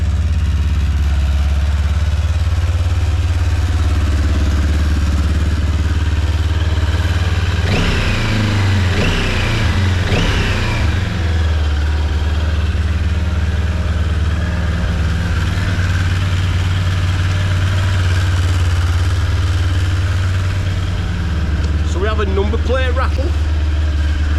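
A vehicle engine idling after being started and left running, a loud steady low rumble throughout with a few brief higher mechanical sounds in the middle and near the end.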